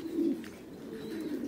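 A Thai Titan meat pigeon coos with a low, soft, throaty call close by. Two short coo phrases sit over quiet background hiss.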